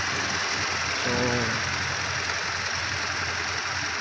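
The engine of a 2015 Toyota Fortuner idles steadily and smoothly after repair, a close, even hum with a faint hiss, and a brief tonal whine rising around the first second; a single word is spoken.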